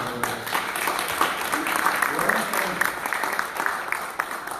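Sustained clapping from a crowd at a Democratic congressional briefing, dense and steady, with faint voices mixed in.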